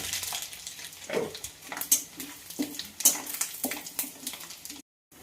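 Dry chillies, bay leaf, panch phoron and radhuni temper in hot oil, sizzling softly under repeated scraping and stirring clatter from a utensil in the pan, before the sound abruptly cuts out near the end.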